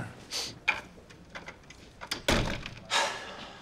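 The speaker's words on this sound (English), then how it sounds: "Close the door." An indoor door is shut with a single solid thud that stands out clearly against quiet room noise, preceded and followed by a few faint knocks, bumps and movements around it.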